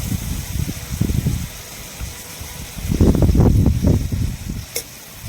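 Chopped bottle gourd and carrot hit hot spiced oil in a pan on low heat, giving a close, loud, crackling sizzle that swells midway with bursts of stirring.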